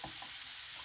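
Shrimp with spices fry in a pan, giving a short burst of steady, bright, close sizzling with no voices.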